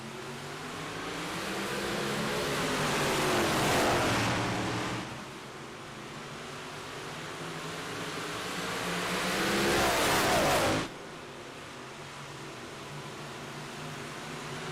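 Race cars on the Eldora Speedway dirt track in iRacing swell and fade as they pass by twice, their engine drone rising to a rushing peak before dropping away abruptly, with no talk over it.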